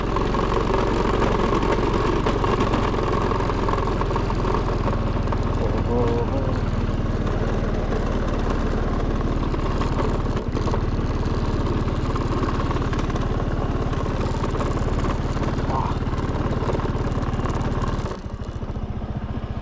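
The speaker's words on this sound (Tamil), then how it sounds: "வண்டி ஏற மாட்டேங்குது." A vehicle engine labours steadily and loudly while struggling up a steep slope on a road through a forest, droning continuously, with a person talking over it.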